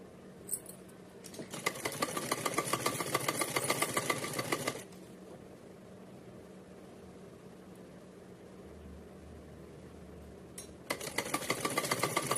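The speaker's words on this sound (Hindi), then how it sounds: "इस पर सीधी सिलाई लगानी है।" A sewing machine runs a straight seam on a Radha Rani dress in two bursts, a rapid even whirring chatter close by, separated by a quiet pause with low background hum.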